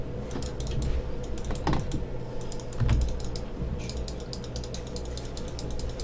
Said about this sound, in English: I was just typing on WhatsApp.